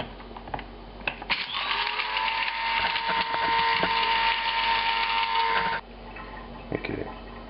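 Black peppercorns and oregano ground in a spice mill, a steady grinding whir lasting several seconds, with a few clicks and knocks before and after.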